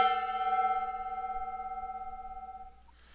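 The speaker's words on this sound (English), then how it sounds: "So we hit the gong." A gong is struck once and rings with a loud, sustained metallic shimmer of layered tones that slowly fades over about three seconds.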